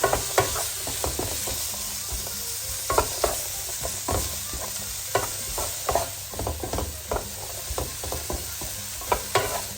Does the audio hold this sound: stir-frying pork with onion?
yes